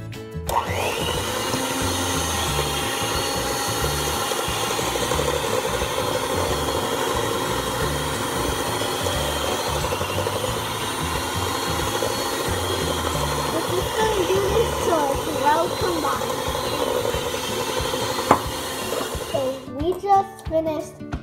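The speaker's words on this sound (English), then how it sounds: "We're gonna do it with the hand mixer" An electric hand mixer whirs steadily through chocolate chip cookie dough for about twenty seconds, a constant buzzing motor close by that cuts off near the end, with faint voices now and then.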